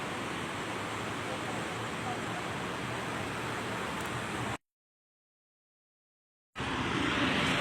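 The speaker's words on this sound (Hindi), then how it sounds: "इसको कहते हैं कश्मीर आबशार।" Kundal Shahi waterfall in Neelam Valley, Kashmir: a steady broad roar of rushing water, broken by a gap of silence midway.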